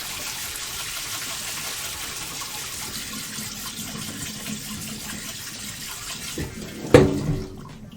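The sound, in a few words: whisk being washed under running tap water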